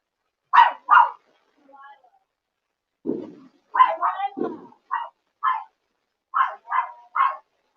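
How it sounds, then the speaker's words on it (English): An excited puppy barks and yips in short bursts, close by, with pairs and clusters of sharp barks spread across several seconds and a couple of lower grumbling sounds in between. "I'm sure you can hear the puppy going crazy"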